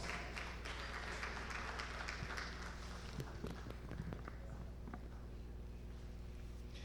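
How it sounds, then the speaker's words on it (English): Applause from the audience at a National Diaspora Day celebration greets an arriving dignitary, a broad steady patter of clapping that holds evenly throughout at moderate, somewhat distant level. "Please welcome him with a round of applause."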